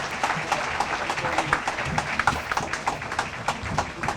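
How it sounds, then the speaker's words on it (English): Crowd of party supporters and activists applauding at a political rally, a steady wash of many hands clapping with scattered louder claps throughout, fairly close and sustained. "Give a big round of applause to the General Secretary"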